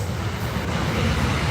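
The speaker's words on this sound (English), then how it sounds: "And that's the train." A passing train rumbling low and steady, a broad continuous roar of rail noise lasting the whole moment with no voices.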